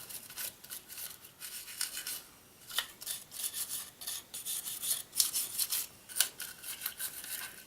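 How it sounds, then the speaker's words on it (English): A toothbrush scrubs disassembled parts of a P320 semi-automatic pistol during cleaning: quiet, close, irregular bristly rubbing strokes in short bursts, with no talking. "I'm going to come back with my toothbrush and I'm just going to add a little bit more of that. Give it a little scrub."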